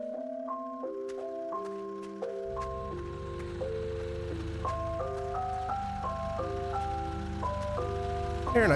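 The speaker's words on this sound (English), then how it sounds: "Yeah, I guess that's an ice cream truck." An ice cream truck in the horror game Massacre at the Mirage plays a chiming music-box jingle, a bright repeating melody of clear tones with a low rumbling drone joining partway through.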